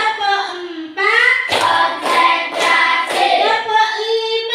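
A group of children chant in unison during a classroom clapping game, punctuated by about four sharp, loud clapped beats in a steady rhythm between their voices.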